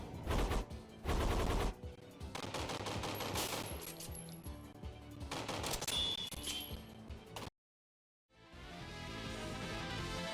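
Gunfire from the video game Touhou Crisis comes as rapid bursts of electronic shots mixed with game music and effects. The sound cuts out briefly near the end, then resumes.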